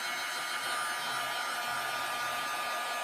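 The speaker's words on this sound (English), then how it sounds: "I'm going to dry this with a heat gun" A heat gun blows in a steady, loud, continuous hiss while drying a wet page in an art journal, with no talking.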